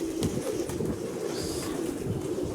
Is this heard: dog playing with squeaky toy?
no